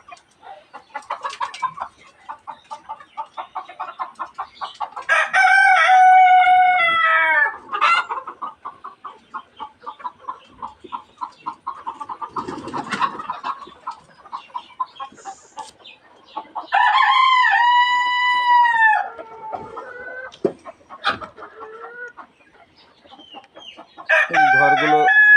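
A flock of Egyptian Fayoumi hens clucks steadily and rhythmically nearby, broken by several loud, drawn-out rooster crows, with the chatter continuing throughout.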